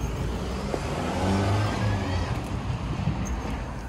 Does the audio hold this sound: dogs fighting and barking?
no